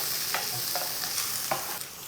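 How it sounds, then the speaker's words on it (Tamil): Onions sizzle steadily in hot oil, with a soft continuous crackle and a few brief scraping stirs at intervals, no voices. "அதை சேர்த்து நல்லா வந்து இது வதங்கட்டும்"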